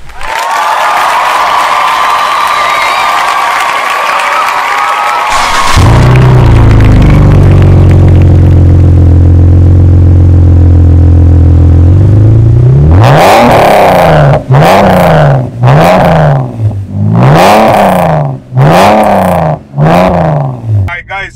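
A straight-piped BMW E46 cranks and fires up into a loud, deep idle, then blips through a series of sharp, rising and falling revs, very close and raw, with a voice briefly audible early on.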